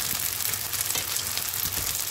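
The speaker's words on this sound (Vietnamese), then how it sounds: "Và tiếp tục thì mình sẽ chiên cái bề mặt còn lại cũng vàng nha" Crispy cake made from leftover cooked rice fries in hot oil over medium heat, giving a continuous close hiss of sizzling that holds steady for a couple of seconds.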